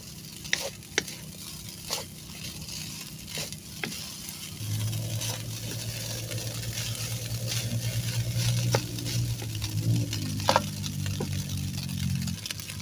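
Sinangag, Filipino garlic fried rice, being stirred and fried in a pan, with scraping and tapping strokes at first, then a steady loud sizzle that builds and continues with ongoing stirring.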